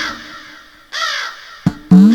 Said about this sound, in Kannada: ಕಾಗೆ ಗುರ್ಗಾದಿಗಳ ಚಿತ್ತಾರ ಧ್ವನಿಯು ಆರಂಭವಾಯಿತು.